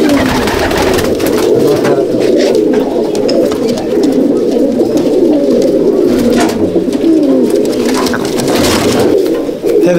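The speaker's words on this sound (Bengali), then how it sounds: "আমার ঘরের কালাঙ্কা পায়রা" Kalanka pigeons coo steadily in a loft, a dense overlapping chorus of low throaty calls from several birds close by, continuous throughout with no talk.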